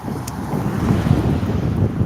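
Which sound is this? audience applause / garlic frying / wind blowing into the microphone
wind blowing into the microphone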